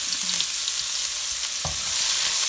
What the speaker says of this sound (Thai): อ่าแล้วนี่ก็เจียวหอมหัวใหญ่นะ